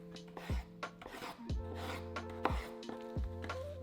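Peeled potatoes being cut coarsely into cubes with a knife: four or five separate, sharp chopping strikes spaced about a second apart, heard over steady tonal background music.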